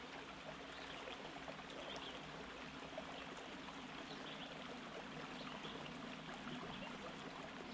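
Steady rushing flow of a river stream, a continuous broadband wash of water running evenly and fairly close, with no voices or other sounds over it.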